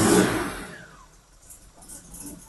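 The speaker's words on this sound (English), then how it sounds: "Give her a rev or two, Jodie." A Jaguar E-type Series 2 4.2 with three SU HD8 carburettors gives a short, loud rev that falls away into a rough, uneven idle, with a slightly stuttering, spluttering note close by.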